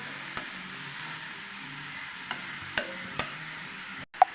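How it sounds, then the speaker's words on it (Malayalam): A spatula stirs an elephant foot yam flower dish in a pan, a soft low bubbling sizzle punctuated by a few sharp scraping knocks, ending with a brief pause and a louder clack. "ഇനി നമുക്കിത് ഇളക്കാം ഇത് ഒന്നും കൂടെ ഇളക്കിയിട്ട് നമുക്ക് അടച്ചു വെക്കാം"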